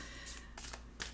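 A few quick soft riffles of tarot cards being shuffled, three short papery bursts, close by and quiet.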